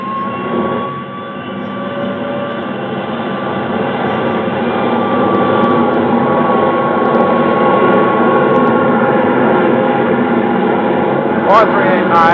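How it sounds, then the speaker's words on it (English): An Air National Guard jet takes off as a 1950s–60s radio drama sound effect: a steady, loud engine roar with sustained whining tones that swells and holds for about twelve seconds. "Tower, this is Air National Guard Jet 4389. Request takeoff clearance."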